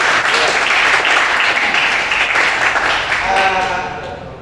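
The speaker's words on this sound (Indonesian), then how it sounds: "Betul sekali, kita beri aplaus kepada Mak Rini." Audience applause from a crowd at a classroom-style talk on home internet use, with dense, loud clapping that holds steady throughout and tapers slightly toward the end.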